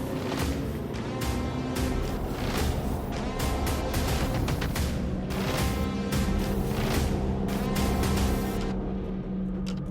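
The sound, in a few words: race cars rolling out at a circuit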